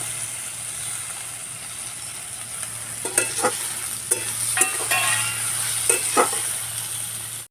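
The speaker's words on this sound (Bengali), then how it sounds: "ভালো করে নাড়াচাড়া করে নিচ্ছি" Onion, eggplant and chopped tomato stirred in a hot pan, a steady sizzle of frying with a handful of close, sharp scraping strokes of the spoon clustered in the middle stretch before the sound cuts off.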